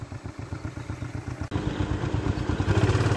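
A Yamaha Exciter motorcycle engine runs steadily with a rhythmic, chugging idle and mechanical clatter, close by, then grows slightly louder and fuller in the second half.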